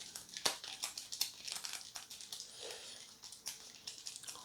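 Cards from a Mage Knight board game deck are being shuffled up close, a quiet run of crisp riffling snaps and papery crinkles with a few sharper slaps, and no talking.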